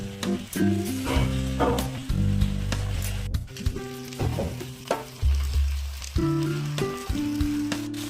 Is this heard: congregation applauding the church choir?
no